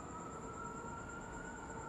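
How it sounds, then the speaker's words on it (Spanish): A faint, steady, high-pitched siren tone from an ambulance or police car carries from far off at night over a low background hum, with no talking. "Se escuchan así como ambulancia o patrulla."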